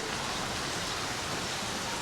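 Heavy storm rain pours down steadily, drenching ducks and chickens outside a village coop, a dense unbroken hiss with no voices.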